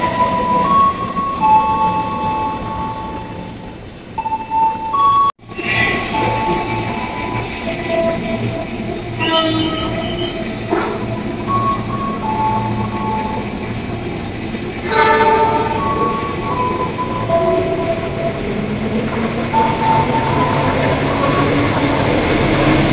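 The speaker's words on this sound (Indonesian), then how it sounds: "Lintas langsung Stasiun Tambun." A passenger train bound for Yogyakarta passes straight through Tambun station without stopping: a loud, continuous roar of wheels and cars, with sustained horn blasts sounding repeatedly close by.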